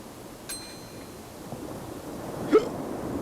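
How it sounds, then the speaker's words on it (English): A person hiccups after eating spicy food, with one short, sharp hiccup near the end over quiet room hiss and an earlier faint click. "I got the hiccups."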